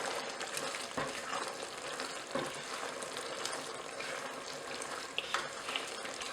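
Surti undhiyu, a Gujarati winter vegetable dish, is stirred in a pan, a soft continuous frying sizzle with faint scraping and a few light knocks, fairly quiet throughout.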